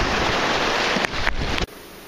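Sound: light steady rain falling outdoors near the bay

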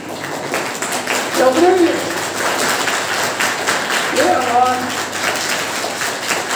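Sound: participants clapping for themselves

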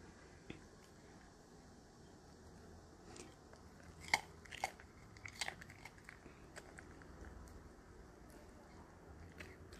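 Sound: poodle dog chewing food

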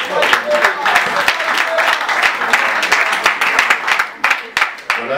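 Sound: applause

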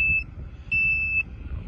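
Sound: jump starter beeping

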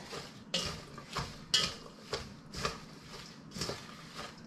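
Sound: mixing shredded cabbage with salt for sauerkraut

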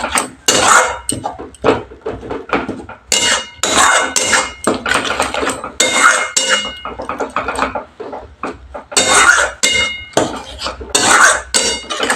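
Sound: masala being sautéed and stirred in a pan for Bhola fish curry

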